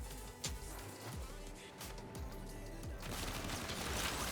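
Gunfire from shooting targets in a video game, a rapid string of sharp shots over steady background game sound, fairly quiet overall.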